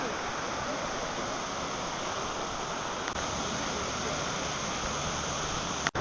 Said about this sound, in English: More waterfall.